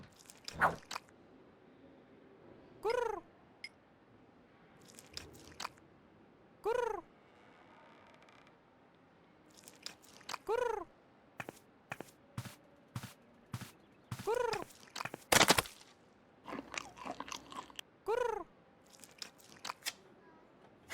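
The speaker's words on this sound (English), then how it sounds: "obviously enjoyed the pigeon-flavored cat food" A cartoon cat in the video game Edna and Harvey: Harvey's New Eyes eats pigeon-flavored cat food. Repeated short rising meow-like cries alternate with crunchy, wet chewing bursts over about twenty seconds, with no speech.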